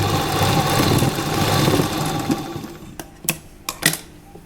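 Close and loud, a sewing machine stitches a jacket dress collar in a steady whirring run for about three seconds, then stops, followed by a few sharp clicks and handling knocks.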